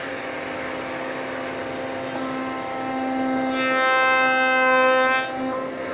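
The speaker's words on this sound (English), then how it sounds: "turn our router on, and make our cope cuts" A router makes cope cuts on small wooden parts for glass panel doors, giving a loud, steady whine with a sustained tonal hum that swells slightly near the end; no one speaks.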